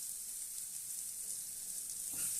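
Amla (Indian gooseberry) chutney paste with tamarind sizzles steadily in a pan, a continuous bright frying hiss with a faint clink of stirring near the end.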